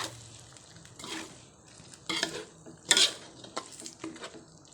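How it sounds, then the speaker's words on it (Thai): A spoon stirs Thai green curry with king mackerel fish balls in a pot, with close scraping and clinking against the metal and a faint simmer, irregular and fairly quiet. "ลูกชิ้นเราก็ใส่เลย ดูอย่างชิ้นปลาอย่างดีเลยครับ เราจะคนคนไป"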